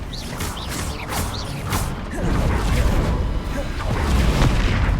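Confringo and other blasting spells in Hogwarts Legacy go off in a string of whooshing casts and booming impacts amid battle noise that builds in loudness over several seconds.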